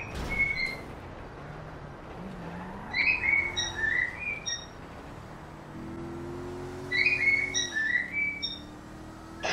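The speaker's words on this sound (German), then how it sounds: "Dein Vogel singt." A pet bird sings in repeated bright chirping phrases, two clear bursts of whistled trills over a low steady background hum.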